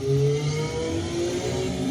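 A race car in a driving video game revs its engine steadily while rounding a turn, a continuous mid-pitched whine with slight pitch shifts, fairly loud and with no talking.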